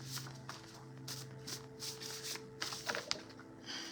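A deck of tarot cards is shuffled by hand in a quiet room, soft repeated riffling flicks in short bursts, faint and close, over a low steady hum with no talking.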